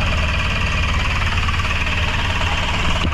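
Two-cylinder diesel engine of a Suzuki Super Carry with a check-engine fault, running steadily at idle with a rough, knocking throb, close and loud throughout without talk.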